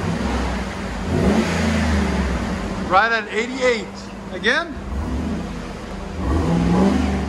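A 2012 Cadillac Escalade ESV with a 6.2L V8 on its stock exhaust revs up in a few sharp, loud bursts, then settles to a steady idle, while a person talks nearby.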